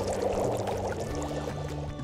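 Water pours and splashes steadily at close range, a continuous liquid wash with bubbling texture, likely from a swimmer with hands tied and a sister wearing a swim ring.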